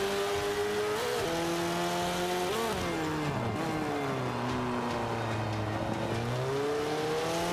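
Mitsubishi Evo 6 rally car in Forza 5, its engine droning steadily, then revving up and shifting through several gears with falling and rising pitch, loud and close with no talk over it.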